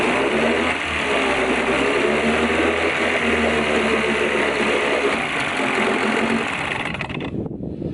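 A Mercury 9.8 outboard motor idles steadily and loudly, a continuous mechanical drone with a fast even pulse that runs unbroken for several seconds before cutting off near the end.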